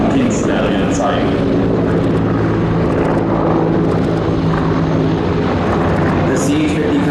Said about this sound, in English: The CH-53K begins the demonstration with an impressive display of the main rotor